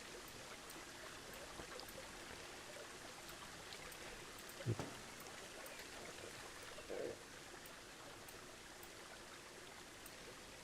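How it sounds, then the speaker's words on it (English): Tiny waterfall spilling from a small creek in the Planet Zoo game, a faint, steady trickle and stream of running water with a couple of brief splashy bumps. "So it should be a tiny waterfall because there's not that much water, of course, coming out of this tiny little creek."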